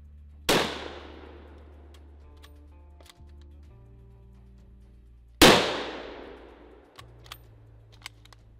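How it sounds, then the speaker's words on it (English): Two sharp rifle shots from an Italian Carcano rifle and cavalry carbine ring out several seconds apart, each a loud crack with a long decaying tail, followed by faint metallic clicks of the bolt being worked. "we'd use Jeremiah's rifle that he had brought with him, the full-size Carcano rifle, for anything longer distance"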